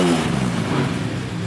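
A K24-swapped Honda Civic with a modified exhaust revs in a steady, loud engine drone that stays close and even across the short stretch, with no talk over it.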